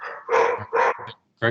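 A household dog barks in short bursts close to a microphone during a committee meeting call, with a person speaking briefly amid the barks.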